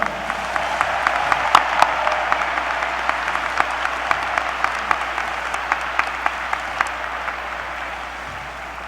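An audience at a university spring commencement applauds the graduating class, a loud sustained clatter of many hands with sharper individual claps popping out over the steady crowd wash.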